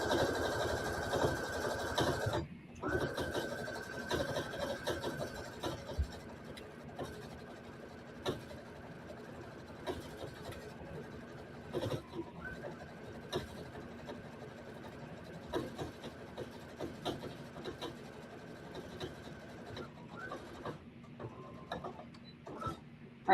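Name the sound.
sewing machine stitching around the top of a fleece neck cover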